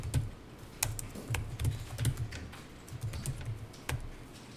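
Typing on a computer keyboard while entering text into accounting software, a run of quick key clicks in short bursts, closing with a firmer press of the enter key; close and clear, no talking.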